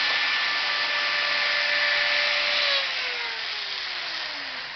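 A high-pitched whine of a rotary tool grinding steadily into bone, its pitch dropping near the end as the motor slows under load.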